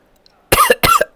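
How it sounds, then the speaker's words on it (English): A person coughs sharply three times in quick succession, close and loud, each burst separated by a short pause after a moment of near silence. "my coughing is just really bad"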